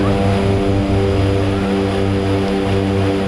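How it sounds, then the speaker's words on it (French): A propeller airplane flies between Kathmandu and Paplou airfield in Nepal's Solukhumbu region, its engines giving a loud, steady, throbbing drone throughout. "Cette année, le voyage entre Katmandou et le Solukhumbu se fait en avion."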